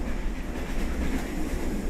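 Steady low rumble of a train car rolling over rails inside the video game One Last Crane, a continuous even drone with faint rhythmic clatter and no speech.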